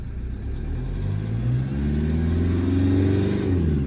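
A car engine with 134,000 km on it idles and then builds in revs shortly after a stone-cold start, a steady close rumble with rising tonal harmonics.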